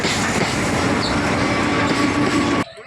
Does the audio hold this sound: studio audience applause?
no